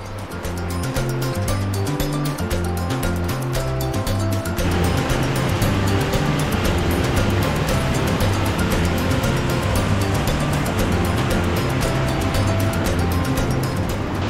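A waterfall in Bonito, Pernambuco roars as a constant, dense rush of falling water, loud and near, with a brief stretch of tonal background sound at the start.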